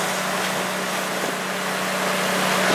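A 1971 VW bus rolls smoothly down the road at speed, its tires recently let down from overinflation, producing a steady broadband road-and-wind roar with a low engine hum underneath, continuous and fairly loud with no talking.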